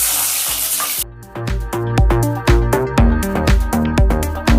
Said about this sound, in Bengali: এবার উচ্ছেগুলো ভেজে নেব।